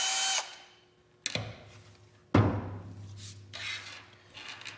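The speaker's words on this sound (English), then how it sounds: "an electric driver" An electric driver whirs in several short bursts while backing out flathead screws from a CZ Bren 2 MS rifle handguard, each burst starting sharply and tailing off, close and fairly loud with no talk.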